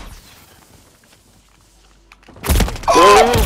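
A melee strike in a Call of Duty Warzone Resurgence match on Fortune's Keep lands as a sudden, close thump after a quiet stretch. A player's voice follows right after it.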